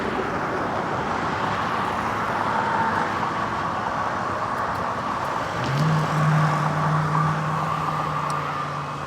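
Car tires rolling on a road with steady traffic noise, a continuous close roar from passing vehicles that swells briefly as one goes by near the end.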